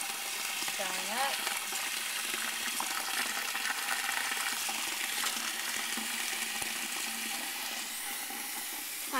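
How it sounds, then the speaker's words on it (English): Water from a long kitchen sink hose pours into a bucket with a steady, even rushing hiss that runs without pause. "Not terribly interesting watching somebody fill up a bucket of water"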